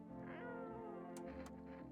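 A video game cat meows while being petted, giving a couple of soft, drawn-out calls over a sustained bed of game music, with two brief sharp clicks near the end.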